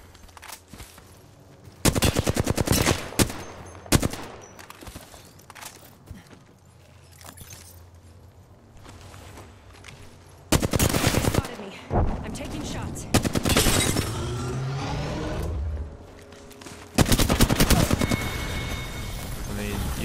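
Automatic gunfire in an Apex Legends match comes in loud, dense bursts of rapid shots with quieter gaps between, mixed with game effects while a player talks at times.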